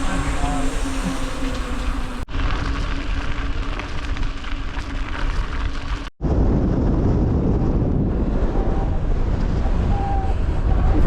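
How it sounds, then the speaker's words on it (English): Broadband wind rush buffets the microphone steadily throughout a long-distance bikepack race ride, loud and continuous with two abrupt cuts, and no clear talk over it. "it's pretty windy"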